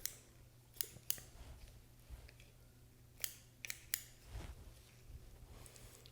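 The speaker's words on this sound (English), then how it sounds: "I'm cutting right around this vent because this is the vent. So I'm just going to start trimming this meat." Scissors snip meat and membrane away from a wood duck skin during taxidermy skinning, sounding as sharp, close, irregular clicks scattered over a quiet background with no talking.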